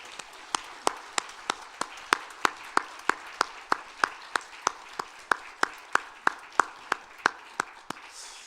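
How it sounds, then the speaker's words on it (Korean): Church congregation clapping in steady unison during a Korean worship service, a regular beat of about three sharp claps per second that stays even and moderately close, then stops near the end. "우리 하나님께 영광의 박수를 올려드리겠습니다"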